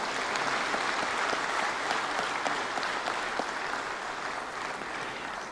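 Sustained, dense audience applause at a green hydrogen conference, steady and loud throughout for a round of clapping honoring the Prime Minister of India, with no voices over it.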